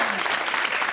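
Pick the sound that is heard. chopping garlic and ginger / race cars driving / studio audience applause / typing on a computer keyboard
studio audience applause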